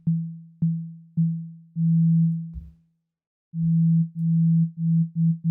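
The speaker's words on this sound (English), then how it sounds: "this can create really nice effects, like these bouncing effects" A synth voice driven by a looping envelope follower produces a repeating bouncing effect: steady low tones that swell and decay in a rhythmic pulse, break into a short silence, then return with pulses that speed up and grow closer together.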